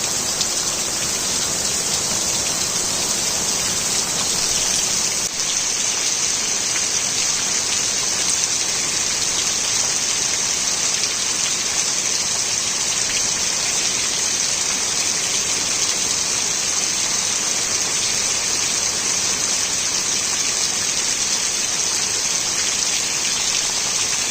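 Heavy pre-monsoon rain pours down in rural Konkan, a dense, steady loud hiss of water on surfaces that runs unbroken throughout, with no distinct thunderclap standing out and no voices.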